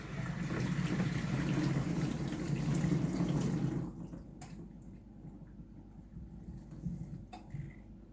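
A Bosch dishwasher fills its reservoir with a steady rush of water that cuts off abruptly partway through, leaving a quiet hum with a few faint clicks.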